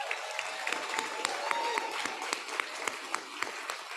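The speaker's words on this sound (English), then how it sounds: "Can we give him another round of applause?" Guests at an access to justice awards celebration applaud a professor, with steady clapping and a few sharp individual claps standing out over the crowd.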